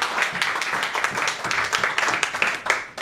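A church congregation claps and cheers for God with a dense, rhythmic patter of many hands and scattered voices, a steady burst of applause filling the room.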